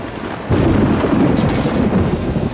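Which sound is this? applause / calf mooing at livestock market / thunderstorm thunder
thunderstorm thunder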